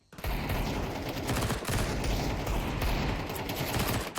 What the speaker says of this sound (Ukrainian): вони стріляють один одного через смок